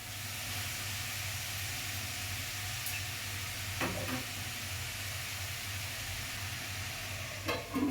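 Broad beans (chikkudu kaya) frying in a pan give a steady, soft sizzle and hiss, with a few faint clinks of stirring, and no voices.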